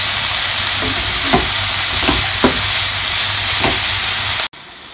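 Onions frying with salt in a pan for a Kerala roast chicken, a loud steady sizzle with a few stirring scrapes, cut off abruptly near the end.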